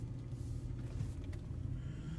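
Inside a moving car, a low, steady road rumble and engine drone carry on evenly at a moderate level, with no talking.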